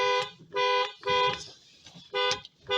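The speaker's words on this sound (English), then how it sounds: "That is honking the horn of our cars." Car horns honk in New Year celebration, four loud sustained blasts in an uneven rhythm with short gaps between them, close by and heard alone.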